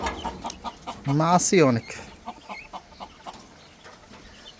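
Ten quails on a poultry farm, with one clear, loud, warbling call up close among softer clucks and chirps, and a voice speaking briefly.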